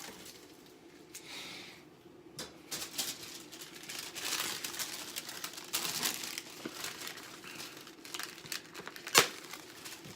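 Plastic sheet crinkled and crumpled by hand to pad the inside of a coin ring before stretching, a soft continuous rustle with a few sharper crackles, close and fairly quiet.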